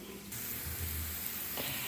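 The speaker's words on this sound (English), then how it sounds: "I'm frying these in oil" Mandoline-sliced white or sweet potatoes for hash browns frying in oil, with a close, steady sizzling hiss that starts after a short quiet moment and continues evenly.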